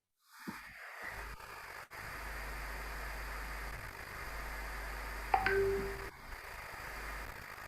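Phone line tones sound while a caller is connected to a live online show: steady static and line hiss with a few short electronic beeps partway through, no speech.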